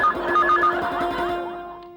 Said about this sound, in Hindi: तुम्हारा फोन है।